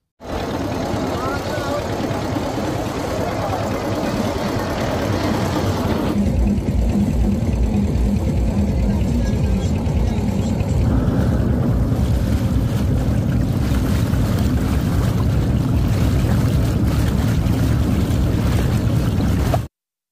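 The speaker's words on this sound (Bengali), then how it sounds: "আমরা যে নৌকাটি নিয়ে ঘুরছি" A boat carries a picnic group along a monsoon-swollen river at Udhunia. The loud, continuous rumble of water and hull blends with heavy wind buffeting, and the tone shifts partway through.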